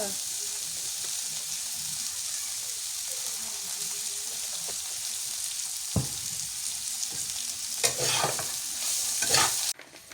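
Raw onion with a pinch of salt frying in a little oil, a steady close sizzle with scraping stirs from a spatula, louder bursts of crackle toward the end.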